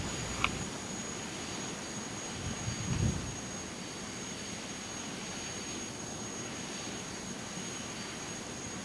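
Jet airliner engine number 2 spooling up in a home-cockpit flight simulator: a steady broadband roar with a constant high whine, a brief swell near the middle, no talk.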